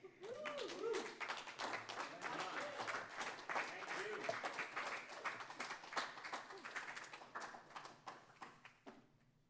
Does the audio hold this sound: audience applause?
yes